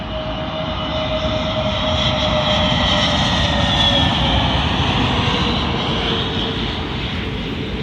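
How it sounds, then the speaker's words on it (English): A SAS Airbus A320neo jet arriving on runway 27L at London Heathrow produces a loud, continuous roar that swells slightly mid-pass and holds steady, with no talking over it. "Arriving in now is a SAS Airbus A320neo working service from Oslo to London Heathrow."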